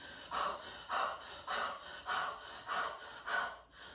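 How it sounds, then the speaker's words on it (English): Heavy, rhythmic panting from a breathing exercise, close and clear: seven forceful breaths at an even, quick pace with short pauses between them and no talking. "let's start with some heavy panting"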